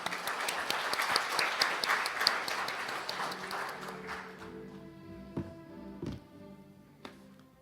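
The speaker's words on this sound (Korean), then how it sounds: "큰 박수로 맞이해 주시길 바랍니다." Applause at an agricultural award ceremony welcoming the judging committee chair, a burst of many hands clapping that fades out over a few seconds, leaving a few scattered claps and knocks in a quiet hall.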